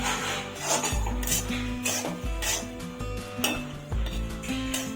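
Semolina roasts in ghee with cardamom and charoli while a spoon stirs and scrapes against the pan, a soft sizzle underneath and repeated metallic knocks and clinks close by.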